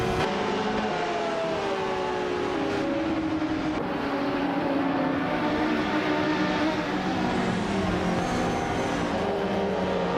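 BMW 320 race cars lapping in a racing video game, a continuous layered drone of several engines revving and shifting pitch, steady and fairly loud with no talk.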